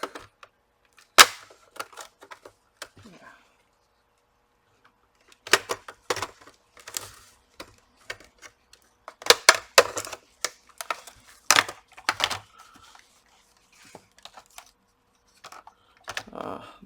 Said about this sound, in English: Let's try and separate the plastic.